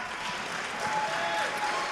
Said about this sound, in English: Y'all clap for Bernie.